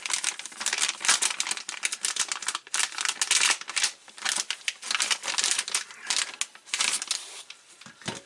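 A plastic anti-sag bag from an AVerMedia Live Gamer HD 2 capture card box crinkles loudly up close in a dense run of sharp rustles and crackles, handled continuously with short pauses.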